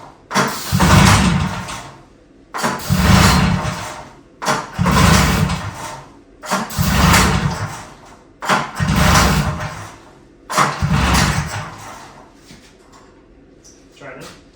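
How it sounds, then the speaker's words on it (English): A John Deere snowmobile engine cranked outdoors, with five or six loud, close pull-start bursts at regular intervals that turn over without catching, then quieter rumbling at the end. "First attempt of starting the John Deere snowmobile."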